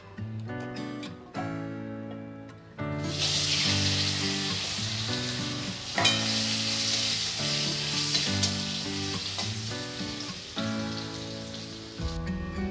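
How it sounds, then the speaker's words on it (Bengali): Medium-sized potato pieces fry in oil already used for frying puti fish, a loud continuous sizzle with crackling bursts and occasional stirring clatter, close up and with no talking. "মাছ ভাজা তেলের মধ্যেই আমি একটা মিডিয়াম সাইজের আলু"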